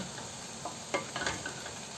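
Jute leaves being stirred and sautéed in a pan, a soft low sizzle broken by a few quick utensil scrapes and taps.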